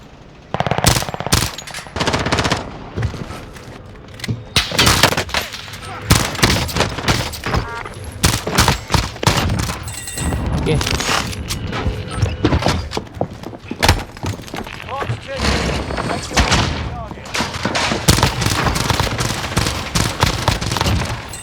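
Dense, rapid gunfire from dual Diamatti pistols in Call of Duty: Warzone cracks almost nonstop, with fast bursts of shots overlapping and echoing in a loud, chaotic firefight.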